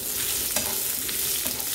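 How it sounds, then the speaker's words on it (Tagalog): Carrots fry in a pan, a dense close sizzle with stirring scrapes, steady and fairly loud throughout with no talking. "Fry muna natin ang carrots."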